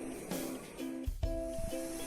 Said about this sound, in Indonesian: Nah, ini sudah mendidih ya mam